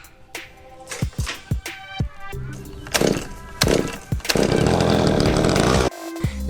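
A petrol string trimmer fitted with a repaired pull cord, heard as several sharp rattling pulls on the starter before the engine catches and runs with a loud, steady buzz for about a second and a half, then cuts out.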